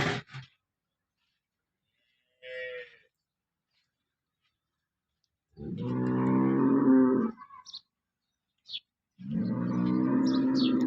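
Cow and calf lowing on a farm, two long loud moos a few seconds apart with a brief softer call before them, otherwise quiet.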